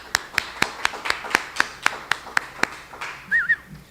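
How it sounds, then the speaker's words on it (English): Sparse clapping at a charity event, a dozen or so distinct claps in a steady rhythm from only a few hands, followed by a short whistle near the end. "Let's all give a round of applause for Alyssa."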